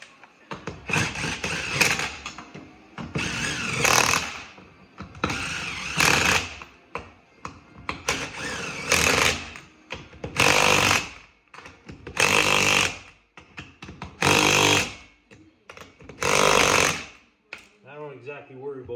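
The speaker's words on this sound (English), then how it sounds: "This impact is kind of nice. It's the old 18 volt type, but it seems to torque it just perfectly." An older 18-volt cordless impact wrench hammers lug nuts tight in a series of about eight loud, rattling bursts with short gaps between them, and a voice speaks between the bursts.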